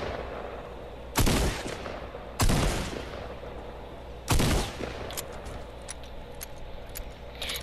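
A pump shotgun in Fortnite fires three loud, sharp blasts spaced a second or more apart, each ringing off briefly, followed by light clicking reload sounds.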